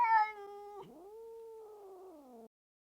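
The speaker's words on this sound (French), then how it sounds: "en plus il miaule à la mort devant le frigo" A house cat meows loudly in front of a fridge: one long, drawn-out wailing meow that bends in pitch midway, close and clear with no other sound.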